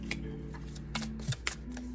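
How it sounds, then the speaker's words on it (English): Tarot cards being shuffled by hand, a few soft riffling bursts close by, with a low steady hum underneath and no talking. "I'm just gonna shuffle a little bit."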